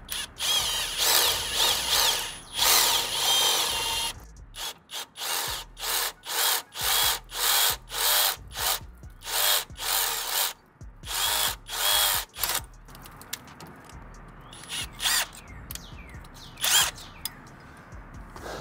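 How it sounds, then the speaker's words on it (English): A power drill grinding into a metal bracket on a 4Runner in repeated loud bursts with brief pauses between, close up and with no talking. "Gonna drill out this bracket because it's too small for this bolt."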